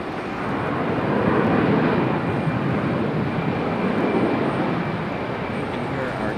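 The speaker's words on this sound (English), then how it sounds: "You can hear our Delta from Boston" A Delta airliner arriving at Raleigh-Durham International Airport produces a broad, steady jet roar that swells slightly and holds at a moderate distance throughout.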